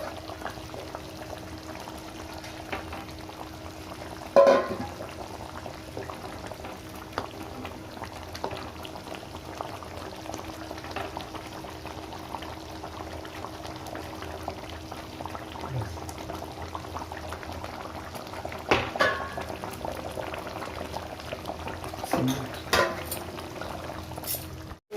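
Telugu-style fish curry (chepala pulusu) simmers in a pot with a low, continuous bubbling, a few louder splashes and knocks standing out now and then, quiet and close with no talking.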